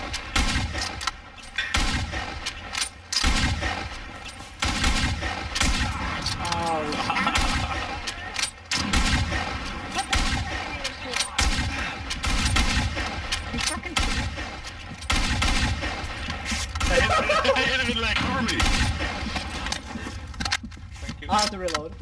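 Gunfire in a first-person shooter match, with rapid clusters of sharp shots and crackling bursts recurring throughout while players chatter over them.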